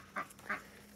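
A goose on a farm with goats honks twice in quick succession, two short nasal calls about a third of a second apart, faint and somewhat distant against a quiet background.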